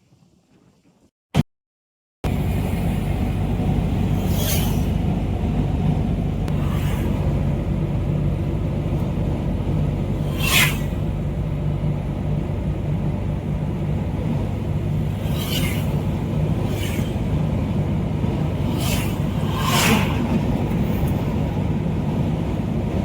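A 2011 Maruti Omni van on a test drive gives a steady low engine rumble and road noise that runs continuously, with buffeting wind across the microphone and occasional brief clicks and knocks over the drone, after a short quiet start.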